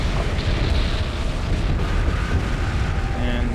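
Explosion in the video game Legacy of Kain: Blood Omen 2, a loud, sustained rumbling roar of blasts and crumbling destruction filling the whole span, with a voice faintly present beneath it.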